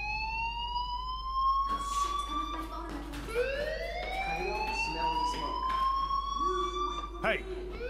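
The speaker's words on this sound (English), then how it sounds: "do you hear that fire alarm?" A fire alarm rings in the Life is Strange video game, its steady electronic wail of rising and falling tones sounding loud and continuous under a person talking.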